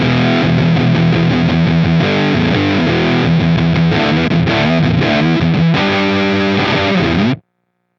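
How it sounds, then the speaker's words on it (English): An electric guitar runs through two blended fuzz pedals, giving a thick, buzzy distorted tone played as continuous loud chords and riffs before it cuts off abruptly near the end. "then we can also blend between the two fuzzes"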